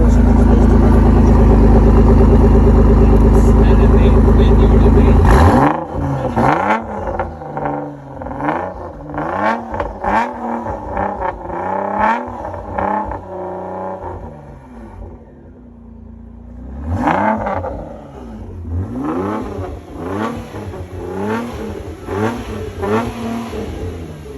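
An Audi B5 car after boost leak and oil leak repairs, its engine idling loudly at first, then revving and accelerating repeatedly through the gears on a test drive, with a short lull before pulling hard again.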